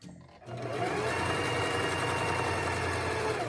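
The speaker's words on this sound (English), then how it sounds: "I'm just going to sew in a circle here, and I'm stitching close to the edge there" A sewing machine runs steadily while stitching a narrow hem close to the edge of a sleeve, starting up after a brief quiet moment and then holding a fast, even, close-up whir with no talk.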